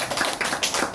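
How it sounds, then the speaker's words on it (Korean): Audience applause at a large religious celebration event, a brief burst of rapid, dense clapping that stays steady and fairly loud throughout with no voices. "여러분 박수로"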